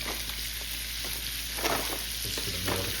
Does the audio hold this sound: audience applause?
no